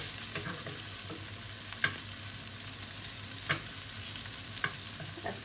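Golsha fish frying in a pan over low heat, a soft, steady sizzle with a few faint ticks of a spatula, quiet and without speech.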